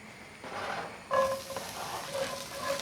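Onion frying in a pan at medium heat for borshch gives a soft, steady sizzle and hiss close by, with a light stir or clink partway through and no talking.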